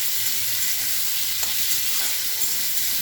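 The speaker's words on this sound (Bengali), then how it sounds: "আমি কাটা পেঁয়াজগুলো দিয়ে দেবো, সুন্দর করে নাড়াচাড়া করবো বন্ধুরা" Chopped onions sizzling in a hot pan while being stirred, a continuous bright crackling hiss close by, with occasional soft scrapes of the spoon and no voices.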